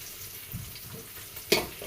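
Tempering spices sizzle in hot oil in a home kitchen with a close, crackling hiss, and a sharp spattering flare near the end.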